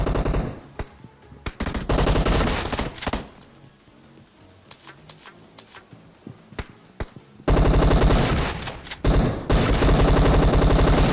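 Gunfire in the PUBG Mobile video game, loud bursts of rapid automatic fire and single sharp shots, with a quieter stretch of scattered shots before heavy, sustained firing returns.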